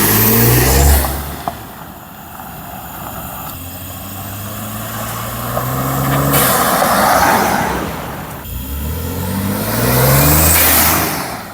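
A Ford F150 with a 3.5 EcoBoost engine and a cold air intake revs loudly and close in several rising and falling sweeps, with a gruff intake roar building, easing off and building again.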